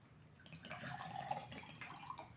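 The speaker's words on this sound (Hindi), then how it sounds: "2 ग्लास लिया हुआ है और दोनों में मैं यहाँ पे पानी डालूंगी" Water is poured into drinking glasses in a quiet indoor room, a faint trickling and splashing stream lasting a couple of seconds, with no speech over it.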